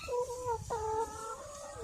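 Egg-laying hens in a hot coop under a shed roof, panting with open beaks; a close, loud drawn-out cluck followed by a second cackling call, alone without talk.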